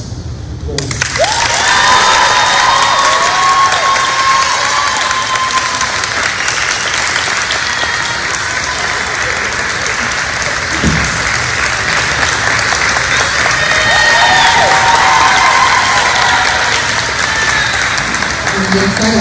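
Audience applause at an award ceremony, a dense, sustained wash of many hands clapping for nearly twenty seconds, loud and steady, with scattered cheers rising over it.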